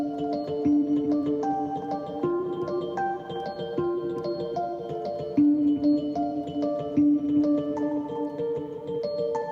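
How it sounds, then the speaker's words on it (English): Rhodes electric piano played through a Fender Twin amp with delay, sustained chords and melodic notes echoing softly in a steady, continuous passage with no voices. "So to get that proper Rhodes sound, I ran it through a Fender Twin"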